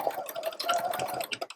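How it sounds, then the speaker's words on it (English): A domestic sewing machine runs across the hem of a fabric grocery bag holder, a short close burst of rapid, even needle chatter over a faint motor hum, trailing off at the end. "I'm actually just going to sew across it somewhere."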